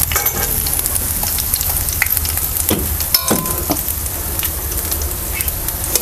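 Snacks bubble and sizzle in hot oil, a dense, steady frying hiss close by with occasional scraping stirs, no talking.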